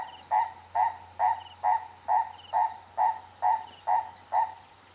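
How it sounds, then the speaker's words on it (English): Purple crested turaco calling in humid African wilderness, a steady series of ten evenly spaced, moderately loud croaking notes over a constant insect drone. "with that sound of the purple crested turaco, just sums it up"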